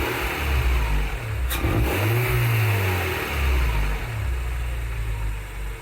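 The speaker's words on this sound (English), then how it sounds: "I'll go and rev the engine and you can hear it. This is from a VTEC Honda engine" A Honda VTEC engine fitted with a Spectre 3-inch universal air filter revs loudly, its pitch climbing and falling through repeated throttle blips close to the intake.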